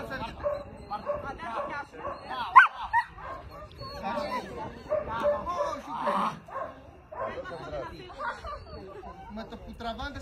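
Several dogs bark, yip and whimper in bursts through a lively play session, with people talking over them throughout.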